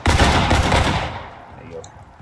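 Musket volley in the War of Rights game, a loud dense burst of many shots fired together at close range, its rolling echo fading over the next second.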